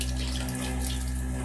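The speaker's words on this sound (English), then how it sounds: "You know, I got running water" Water gushes steadily from hoses inside a BBQ food trailer, a loud continuous hiss with a low hum underneath and no voices.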